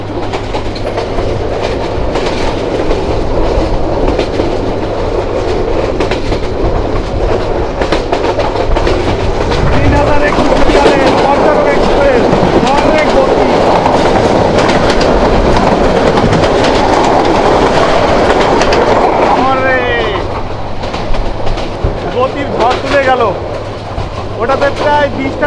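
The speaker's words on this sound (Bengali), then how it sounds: "ঢাকা থেকে চট্টগ্রাম হয়ে কক্সবাজার যাওয়ার ট্রেন পর্যটক এক্সপ্রেস" The Parjatak Express, a passenger train of more than 30 coaches running from Dhaka via Chattogram to Cox's Bazar, passes close at high speed. It gives a loud, continuous rush and clickety-clack, and wheel squeals rise near the end.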